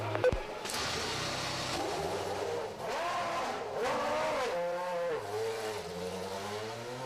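A Formula One car's engine revs in the pits before the 2001 Japanese Grand Prix, a loud, sustained high whine rising and falling steadily as the throttle is worked, with a sharp click at the start.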